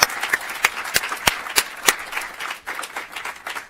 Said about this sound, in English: So I'd like to give all the folks at Bloomberg a quick round of applause for hosting us today.